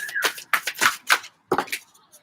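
Tarot cards being shuffled, a series of quick riffling bursts in uneven rhythm, close and fairly loud, with no talk over them.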